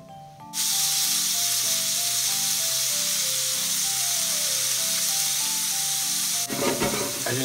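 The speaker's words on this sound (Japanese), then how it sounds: "炒めていきます。" Meat is stir-fried in a pan for vegetable yakisoba. A loud, steady sizzle kicks in after a brief quiet start and hisses on continuously, with soft melodic background music underneath.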